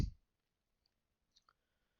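A few keyboard key clicks while a website address is typed, one sharp tap followed by faint sparse clicks, quiet and close with no talking.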